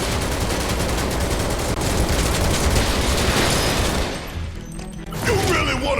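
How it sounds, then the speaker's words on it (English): Sustained rapid gunfire from Final Fantasy VII Remake, a loud continuous automatic stream for several seconds that cuts out briefly before another burst resumes. "This is just an excuse for me to stand here and shoot everything."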